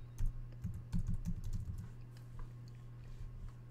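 Quiet keystrokes on a computer keyboard as a password is entered, a short burst of soft clicks over a low steady hum, then a few scattered taps.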